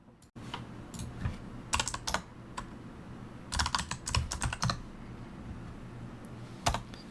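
Computer keyboard typing in short bursts of rapid clicking keystrokes, separated by pauses, close and crisp against a quiet low room hum.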